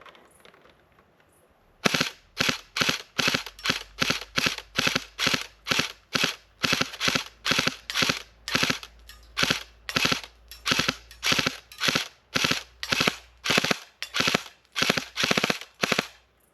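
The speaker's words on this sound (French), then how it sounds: "on passe en mode rafale" Airsoft gun firing in burst mode: after a quiet start, a long run of sharp, evenly spaced shots crack out close by, roughly two per second, with no talking.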